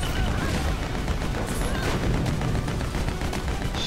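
Rapid gunfire from the video game Lego Batman 2, a dense, continuous barrage of overlapping shots and crashing impacts with no pauses.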